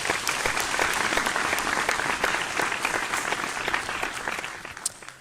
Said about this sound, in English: please give one last big round of applause as Alan leaves the stage.